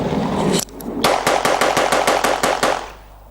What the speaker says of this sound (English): What I'm going to do is just put it through rapid fire, so just to show the reliability of the pistol